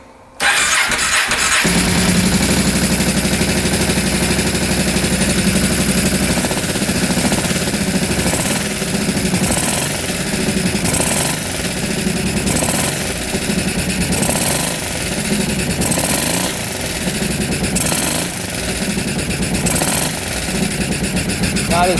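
An ATV engine, carbureted, cranks and catches, then idles loudly with the choke on, running rough with a steady pulsing surge; a person speaks briefly over it.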